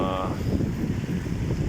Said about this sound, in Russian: Порывы очень сильные.